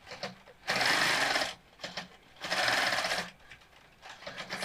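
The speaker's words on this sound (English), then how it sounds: "Stitching at right angles always kind of interesting with your Pro Stitcher gauge." A longarm quilting machine with a Pro Stitcher stitches an old quilt, giving two loud, sustained bursts of rapid mechanical whirring separated by short pauses with quieter clicks and handling sounds.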